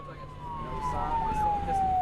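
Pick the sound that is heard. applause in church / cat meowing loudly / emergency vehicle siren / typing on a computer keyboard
emergency vehicle siren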